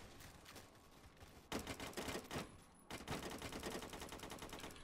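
An AK-47 in the shooter game Phantom Forces, fired from the hip, lets off rapid automatic bursts, with a short gap before a second longer burst of tightly spaced shots, fairly quiet overall.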